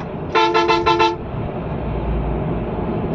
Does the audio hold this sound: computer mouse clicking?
no